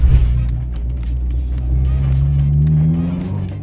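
Close, loud Honda Civic engine revving and pulling hard on a test drive, pitch climbing steadily as it accelerates, with a deep rumbling exhaust.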